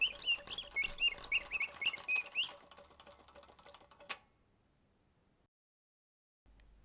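Mechanical singing bird automaton set in a mirror, crowned by a golden rose that opens to release the bird: rapid chirping, warbling trills over a whirring mechanism for a few seconds, then a sharp click and silence.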